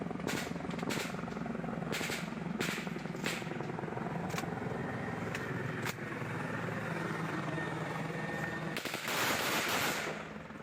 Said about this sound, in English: shows the TPN shooting at what appears to be a Bell 412 helicopter